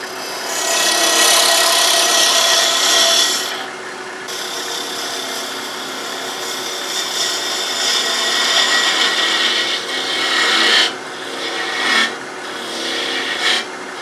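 Woodturning cuts on a lathe shaping a small chickadee ornament: a steady, close scraping rasp of the tool against spinning wood, with brief breaks and a few sharper bursts of cutting toward the end.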